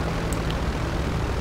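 A C-130 cargo plane in GTA 5 running its propeller engines at takeoff, a steady droning roar that holds at an even level the whole time with no pauses.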